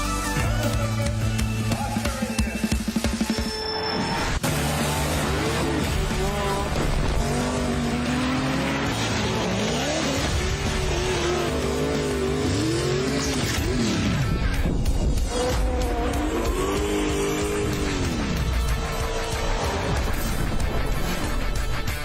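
Time attack race cars at the World Time Attack Challenge roar past one after another, engines screaming with sweeping pitch changes, gear shifts and tire squeal filling a loud, continuous trackside soundscape.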